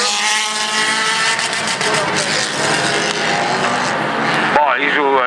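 A Renault Mégane Coupé rallycross car at the 2013 Lessay event accelerates hard, its engine roaring loudly and climbing in pitch over several seconds, then a gear shift and renewed rise, with a commentator speaking over it.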